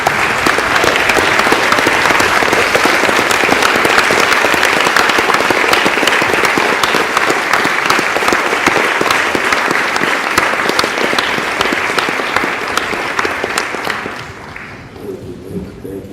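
Audience at a social justice event breaking into sustained loud applause to welcome a speaker to the stage, dense clapping throughout that fades out near the end.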